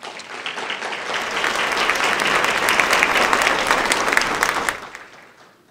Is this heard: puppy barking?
no